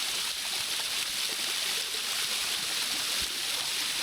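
Water pours down from above into a shallow forest pool at Bhairavakona, a steady, close, rushing wash with no voices.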